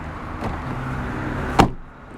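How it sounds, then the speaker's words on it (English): A 2005 Toyota Corolla S car door opening with a soft click, then swung shut with one solid, close thump near the end, followed by quiet. "Just listen when I reopen the door here."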